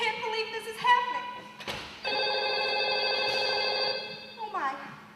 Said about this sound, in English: Ken, the phone's ringing.